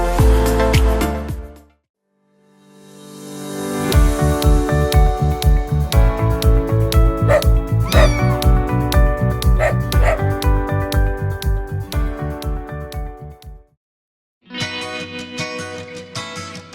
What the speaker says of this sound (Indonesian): Kali ini kita bersama dengan Koko, ya, seekor beagle